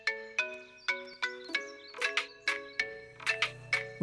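A phone ringtone plays a repeating chiming melody of quick bright notes, steady and fairly close, with no voices.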